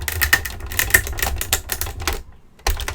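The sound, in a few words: die cutting machine running felt through its plates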